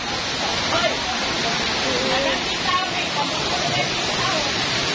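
A waterfall at Delamar Resort in Iligan City pours steadily, a constant dense rushing wash at moderate loudness, with no talk over it.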